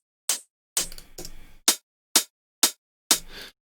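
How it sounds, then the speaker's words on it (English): A hi-hat drum sample plays as a sparse sequence of crisp, bright metallic ticks, about seven hits with a couple of longer open-sounding ones, evenly spaced and alone. "Okay, main hat."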